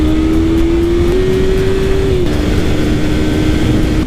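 A 2019 Yamaha R3 300cc sport motorcycle rides a tight, twisty road, its engine holding a loud, steady drone that rises slightly in pitch, then drops briefly as the rider eases off. Heavy wind rumble runs underneath throughout.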